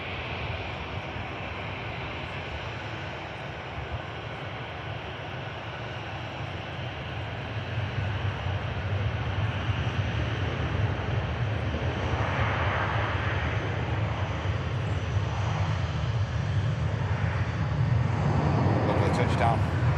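An Air Transat A321neo arrives and lands after a long flight from Canada, its engines a steady distant roar that swells gradually louder over the stretch while voices talk over it.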